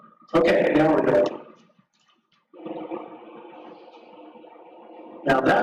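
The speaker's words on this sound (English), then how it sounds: "Now that is the freight train sound. That's the sound of data under voice" A ham radio FM satellite's data-under-voice telemetry gives a low, steady rumbling drone like a freight train. It runs for several seconds between bursts of nearby voices.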